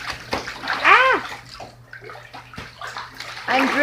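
A pet goose splashes and sloshes in bathwater in a tub, with bursts of splashing and dripping water. A voice is briefly heard between the splashes.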